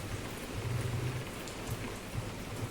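Morning rain falls in a steady, moderately quiet wash of drops, with a low rumble swelling briefly underneath and no talking.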